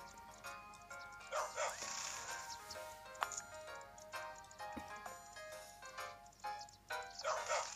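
A puppy in the Nintendogs + Cats video game gives a series of short, sharp barks and yips at an irregular pace, mixed with light game effects and clicks.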